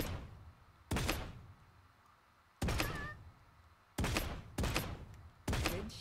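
Gunfire in the video game Realm Royale, five sharp, punchy shots spaced one to two seconds apart, each trailing off into a short reverberant decay, with no talk.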